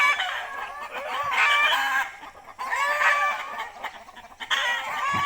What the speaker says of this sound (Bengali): খুবই সুন্দর দেখতে মুরগিগুলো